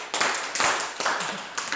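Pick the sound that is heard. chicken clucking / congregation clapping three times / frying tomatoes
congregation clapping three times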